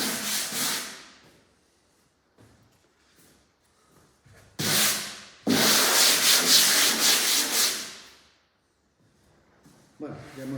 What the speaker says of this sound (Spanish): ya hemos terminado el lijado